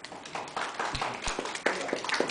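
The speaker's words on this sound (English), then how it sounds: "could you please applause him?" Audience applause at a WordPress conference talk at WordCamp Romania, a brief burst of scattered clapping from a crowd in a hall, moderately loud and uneven, with a few sharper individual claps standing out.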